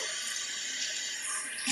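Cold tap water runs steadily from a faucet for a parrot to drink, a continuous bright hiss of splashing into a sink, close and alone without talk.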